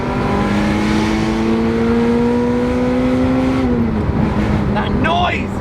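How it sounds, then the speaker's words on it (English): A Ferrari 355 engine revs loudly from inside the car, a steady high rising tone that holds, then drops off sharply as the revs fall, with a brief swoop of sound at the end. "this noise of this engine just behind my ear"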